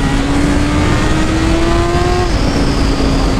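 A Honda CB1000 motorcycle accelerates hard, its engine note climbing loud and close before a brief shift and a renewed pull, with no speech.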